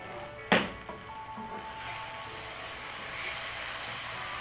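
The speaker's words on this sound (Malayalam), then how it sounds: "ഇപ്പോൾ ഒന്നും കൂടി ഇളക്കിയിടുക." Tomato masala for a chicken roast is stirred in a pan, starting with one sharp clank of the utensil against the pan. A steady soft sizzle follows, fairly close, with no voices.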